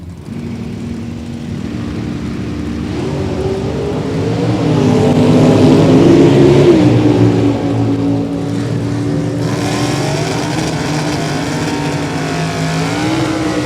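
A Camaro and a Mopar drag race car roar off the line together, their engines building to a loud sustained howl that peaks midway before settling into a steady high-pitched drone as they run down the strip.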